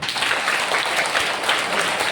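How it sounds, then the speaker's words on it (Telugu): Primary school students applaud together at a motivation programme, a dense, steady burst of many hands clapping that fills the room for a couple of seconds with no talking over it. "ఒకసారి క్లాప్ కొట్టండి"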